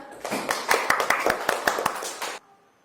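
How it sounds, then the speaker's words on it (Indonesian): A small group of fourth-grade children in a classroom clap their hands in a quick, uneven burst of distinct claps with some voices, then stop abruptly, leaving a quiet room. "Tepuk tangan buat Rizhan."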